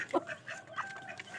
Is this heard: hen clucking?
yes